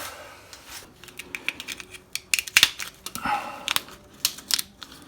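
Several sharp snips and clicks of scissors cutting, irregular and close, with quiet handling noise in between.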